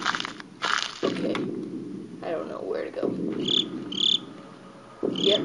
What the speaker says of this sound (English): It's like if you hear crickets, like no one's near you.